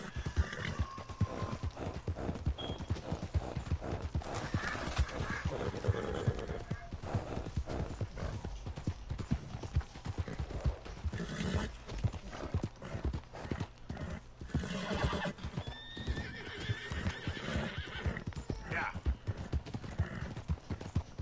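A horse in Red Dead Redemption trots along with continuous rhythmic hoof clip-clops, occasional snorts and a neigh, against quiet ambient sound from the game.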